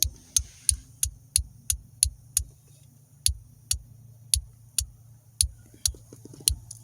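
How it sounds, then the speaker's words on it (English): Variable speed turn signal flasher relay in a 1995 Mustang, clicking in a steady fast rhythm of sharp close ticks with a brief gap midway, over a low idling hum. "that's with the variable speed flasher. And you can still change the speed."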